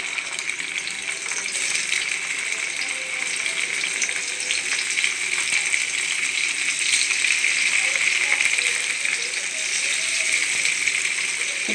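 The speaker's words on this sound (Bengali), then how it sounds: "এবারে আমি পনিরগুলো ভেজে নেব।" Paneer pieces frying in hot oil for masala paneer, a steady crackling sizzle that stays fairly loud and even throughout, with no one talking.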